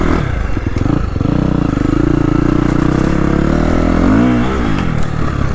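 A KTM 350XCF dirt bike engine revs on a cold 20-degree ride, a loud close buzzing roar that holds steady, then swells and dips as the throttle blips near the end, with no talking.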